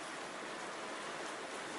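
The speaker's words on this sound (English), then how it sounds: "oh that's rain outside" Steady rain falls outside a room, a soft even hiss with no breaks, continuous and moderately faint throughout.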